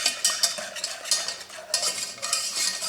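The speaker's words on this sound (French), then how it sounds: "il faut rester en mélangeant" A spoon scrapes steadily through frangipane cream thickening in a pan on the stove, for a galette des rois, in quick repeated strokes, close and fairly loud with no talking.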